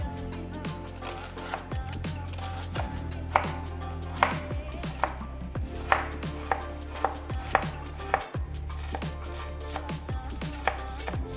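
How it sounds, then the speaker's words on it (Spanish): Onion being finely chopped with a knife on a board, a steady run of crisp, evenly spaced close-up chops. "Vamos a utilizar solamente 2 cucharadas de cebolla que yo voy a cortar finamente."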